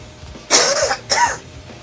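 Two loud, close coughs from a man on a radio-style broadcast, a harsh burst followed by a second after a short pause, with no talking over them.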